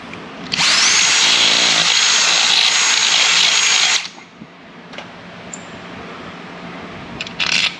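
A power drill whines loudly for about three and a half seconds while drilling during a Chevrolet Squarebody truck rebuild, then stops, followed by faint clicks and a brief final whir.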